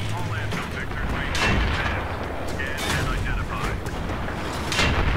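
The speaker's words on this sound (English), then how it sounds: "Okay, I'm getting shot like crazy." Dense, continuous gunfire and explosions fill online Battlefield 3 gameplay, loud and close throughout, while a player talks over the shooting.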